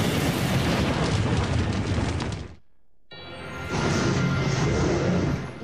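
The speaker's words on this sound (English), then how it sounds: "What is all that unearthly commotion? A dragon attacking the castle." A cartoon dragon attacks a castle: loud, dense explosive rumbling crashes, then a brief near-silent gap before another sustained roaring blast fills the rest.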